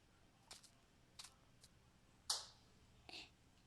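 A sharp, bright pop stands out among a few soft, quiet clicks, a balloon bursting in a video game, with no talking.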